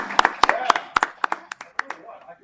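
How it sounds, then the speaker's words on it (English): A small round of applause for a jazz band, a dozen or so distinct claps spread over a couple of seconds, crisp and close, thinning out toward the end. "give yourselves another round of applause"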